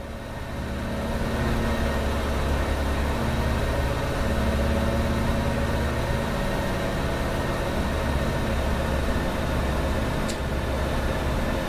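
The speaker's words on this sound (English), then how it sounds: "the engine sounds are a little flat" Simulated Ford Trimotor three-engine airliner in the Aeroplane Heaven flight simulator, a steady, flat droning engine hum with low throb, continuous and fairly even throughout, no talking.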